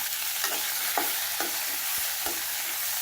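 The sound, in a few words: sautéing vegetables in a pan for tamarind curry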